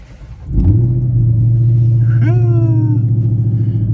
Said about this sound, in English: let me start the car real quick